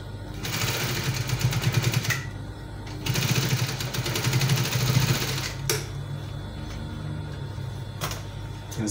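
A sewing machine stitches a V neckline piping on fabric in two long steady runs of rapid mechanical whirring, then stops and gives a few shorter bursts, close and loud.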